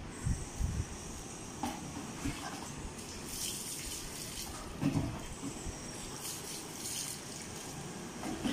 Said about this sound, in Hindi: पूरा गिरा दो पानी उसमें।